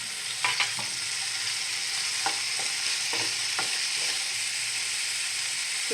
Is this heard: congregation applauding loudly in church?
no